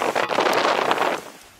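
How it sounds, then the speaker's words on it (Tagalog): Strong typhoon wind roars across Aurora, a loud, steady rushing gust that holds for about a second before fading away. "Lumakas ang hampas ng hangin doon"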